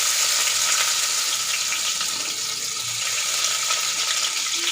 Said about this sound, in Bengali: কড়াইয়ে আবারও তেল দিয়ে দিয়েছি, তেল গরম হয়ে গেছে। রসুন কুচি দিয়ে দিয়েছি